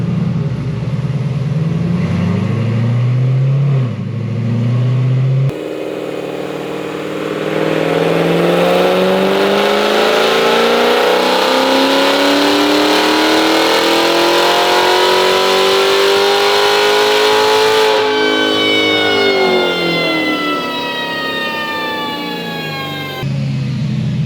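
Full-bolt-on supercharged Corvette C7 Z06 with a Kong X-Port blower, running straight 93 octane, revs hard on a dyno. The loud engine note climbs steadily through a long pull, peaks, then cuts off and winds down, with no talking.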